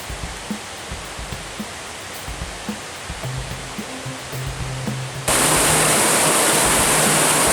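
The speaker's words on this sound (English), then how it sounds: "Another little water crossing here, but this is beautiful." Small stream crossing a mountain trail in the Great Smoky Mountains, heard as steady broadband rushing water with light footsteps, swelling abruptly into a much louder, close, continuous wash for the last couple of seconds.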